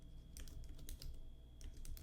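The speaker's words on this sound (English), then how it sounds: "I'm gonna just type a prompt." Typing on a computer keyboard, a run of quick close key clicks in short clusters with brief pauses, quiet room hum beneath and no talking.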